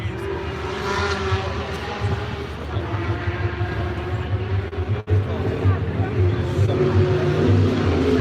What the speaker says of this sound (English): as you can hear the rumble of V8s and who knows what else racing down the track